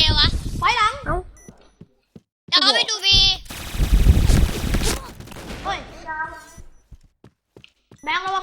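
A burst of rapid shotgun fire in the video game Point Blank erupts between excited voices talking, loud and sustained for about two seconds.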